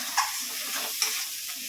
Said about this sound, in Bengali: একটু ভাজা ভাজা করে নিই আর একটু